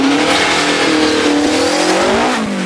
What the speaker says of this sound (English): we've got a Morris Minor on the move.